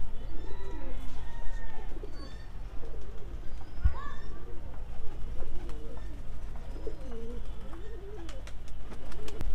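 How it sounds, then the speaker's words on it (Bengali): Pigeons in a rooftop loft coo in repeated soft, rolling calls close by, with a sharp clatter midway and light clicks near the end over a steady low background hum. "আর আজকে খুব সুন্দর ফ্লাই করছে পায়রা দুটো"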